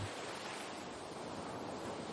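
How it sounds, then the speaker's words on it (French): Ocean waves on a sandy beach, a continuous soft hiss of surf with steady wash and no distinct breaks, moderately quiet. "vous laisser bercer par le bruit des vagues"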